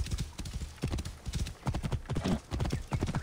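Horse hooves clip-clop across open ground in the video game Assassin's Creed Origins, a brisk uneven trotting rhythm of close, moderately loud strikes with an occasional snort, and no talk over it.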